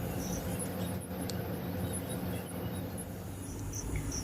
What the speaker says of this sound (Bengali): লো ফ্লেমে রেখে বড়াগুলো তেলের মধ্যে দিয়ে দিচ্ছি।